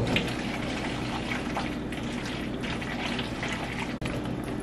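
Milk pours and trickles into a cooking pan with shredded cheese, then gets stirred in; a steady, close liquid wash fills the whole stretch with no talking.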